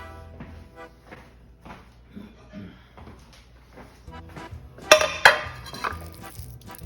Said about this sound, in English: First, let me grab a plate.